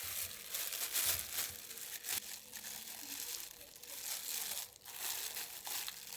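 A plastic sheet crinkles and rustles close by as it is wrapped and taped over a Z Cam F6 camera, with irregular soft crackling bursts and no talk.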